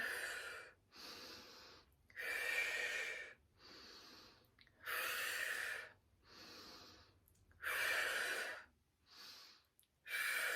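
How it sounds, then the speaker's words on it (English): Slow rhythmic pranayama breaths in a Kundalini breathing exercise for bad backs, about six or seven audible inhales and exhales with short pauses between, close and fairly loud, with no talking. "Breathing in, out, in, and let's go a bit more fluid."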